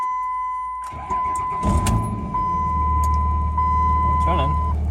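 A Cummins diesel in a single cab truck fires up and settles into a steady, rumbling idle up close, with a faint tone and brief clatter as it catches and voices speaking over the running engine.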